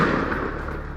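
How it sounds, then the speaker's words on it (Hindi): Gunfire in Ramallah in the West Bank, a dense, continuous crackle of shots blurring into a steady roar for about a second, loud and without any talk. "वेस्ट बैंक के रमल्ला में ताबड़तोड़ फायरिंग।"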